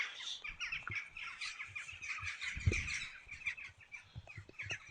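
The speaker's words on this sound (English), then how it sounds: "We've got plenty of crows around." Crows call repeatedly from a windy hilltop churchyard in Buckinghamshire, a series of harsh caws and squawks at moderate distance, overlapping in bursts over faint wind.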